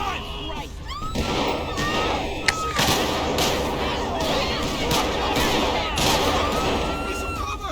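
Gunfire in the LSPDFR police mod for GTA, set during a patrol with a Hong Kong police theme: scattered sharp shots and one loud crack ring out over dense, noisy game ambience while voices shout.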